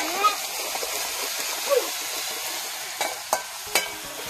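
Onions fry with ginger and garlic in a pan for a village-style pork curry, giving a steady, soft sizzle with a few light stirring knocks and scrapes, while a person talks faintly over it.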